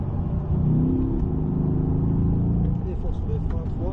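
Chevrolet Corvette C8 engine pulling hard on the Écuyers circuit, a steady loud rumble with rising revs throughout, while an instructor talks over it.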